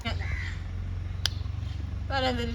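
A crow caws, with one short call near the start and a longer, louder run of caws at the end, set against a low background hum and a brief click.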